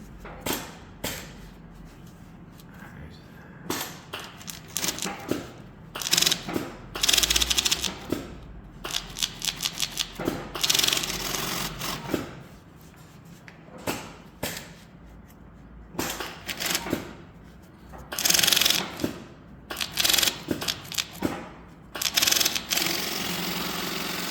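A flat seam sewing machine stitches tape onto stubby holders in runs of fast mechanical clatter that start and stop repeatedly, with short bursts separated by quieter pauses and a steady low hum underneath.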